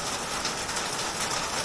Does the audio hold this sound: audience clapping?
no